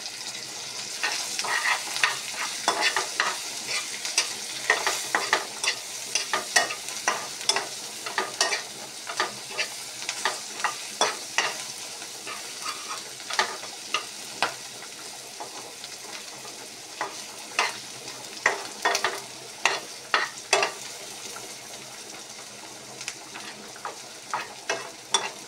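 Fish frying with onion, cumin, coriander powder and crushed garlic in a pan, a continuous sizzle broken by frequent sharp scraping stirs that come in quick irregular bursts, close and fairly loud with no talking.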